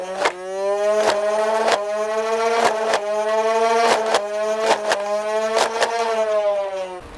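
Nerf Elite 2.0 Double Punch flywheel blaster firing Dart Zone darts, a sustained whirring flywheel hum broken by a rapid run of sharp shot pops at a fairly even rhythm, loud and close.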